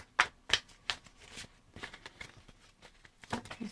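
Tarot cards are shuffled and drawn close up, with a few sharp riffling snaps at the start followed by softer flicks and slides of cards.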